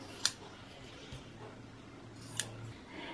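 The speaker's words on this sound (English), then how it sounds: "we'll just snip off the extra" Scissors snip off an extra strip of fabric from a handmade gift: two crisp, close cuts, one near the start and one near the end, over a quiet room.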